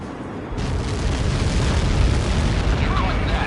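A missile impact explosion in a video game rumbles as a sustained, loud, dense roar that swells after a brief quieter start and holds at full strength.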